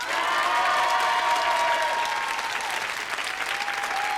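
Sustained studio audience applause on the French TV prank show Surprise sur Prise, dense and loud throughout, a crowd clapping steadily with a faint cheer mixed in.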